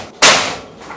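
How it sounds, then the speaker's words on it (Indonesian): A single sharp, loud crack of a PCP bullpup air rifle shot, bursting suddenly and then trailing off into a short fading hiss. "Tembakan keempat."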